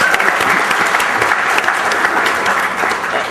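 Loud, sustained applause from a conference audience at a software panel discussion, many hands clapping densely and evenly for several seconds with no voices over it.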